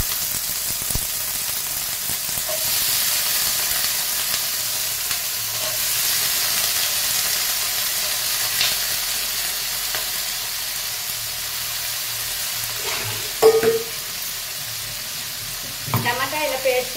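Washed, cut potatoes frying in a pan with a steady soft sizzle throughout, a few stirring clinks near the end, no voices.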